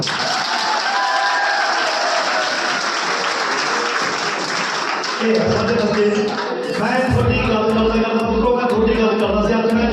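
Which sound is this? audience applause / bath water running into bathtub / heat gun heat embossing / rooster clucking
audience applause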